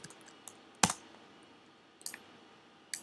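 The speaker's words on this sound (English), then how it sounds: "Let's say we type in color." A few sparse, soft clicks of computer keyboard typing, four or so isolated keystrokes spread over a few quiet seconds with no voices.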